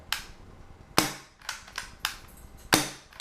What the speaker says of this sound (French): le bruit de la réplique vient principalement aussi du claquement, comme ça